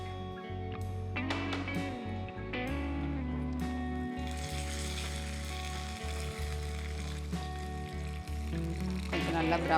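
Continuous crackling sizzle of cashews frying in hot ghee, with a low steady hum underneath and occasional sharper pops and clinks.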